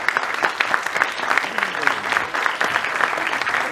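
A crowd at a film poster launch applauds with rapid, dense clapping in pulsing waves, loud and close, with faint chatter mixed in beneath the claps.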